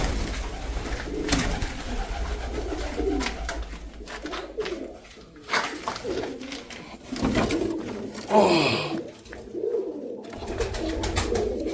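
Pigeons coo repeatedly on a farm, layered soft throaty calls with rustling and movement close by, steady through the scene with no talking.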